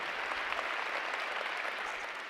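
An audience claps together for about two seconds, a dense and even wash of applause at steady loudness with no voices over it.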